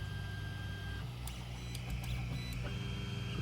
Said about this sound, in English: The printer right now is finding its home location.